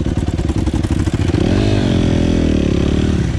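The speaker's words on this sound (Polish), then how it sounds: "Kasper kupił motor do Dakaru" A Honda motorcycle engine revs loudly and steadily, its pitch climbing and settling as the throttle is worked, close by with a rattling mechanical edge.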